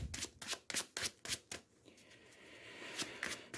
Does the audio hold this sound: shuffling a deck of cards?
yes